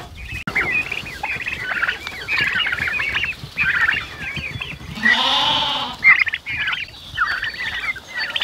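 Sheep and goats bleat on a farm, many overlapping calls close by with one long loud bleat standing out near the middle, set against steady barnyard noise and no speech.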